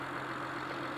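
A Honda/Acura engine idles at cold start after fresh ignition coils were fitted, a low, even, steady hum with faint rumble, heard briefly and alone.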